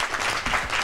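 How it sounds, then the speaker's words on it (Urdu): A studio audience on a Ramzan television transmission breaks into steady applause, a dense wash of clapping that is loud and continuous. "تالیاں بجائیے ان کے لیے"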